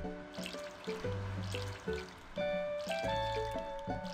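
Repeated gentle water drips and trickles of crops being watered in the Harvest Moon video game, playing over cheerful looping background music with no talking.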